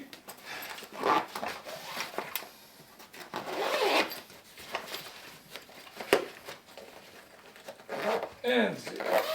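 A zipper on a no-brand IGT camping table's carry bag is pulled shut in several quick strokes, close and fairly loud, with rustling between.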